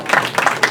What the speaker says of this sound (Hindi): भाई जोरदार तालियां।